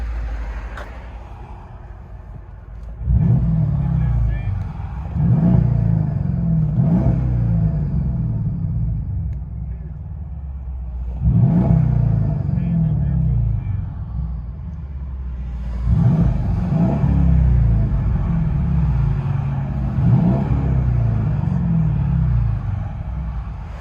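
Straight-piped 2013 Mercedes CLS 550 bi-turbo V8 with an X pipe and quad tips, heard from inside the cabin: a deep droning rumble that swells in several repeated surges of acceleration, with no talk.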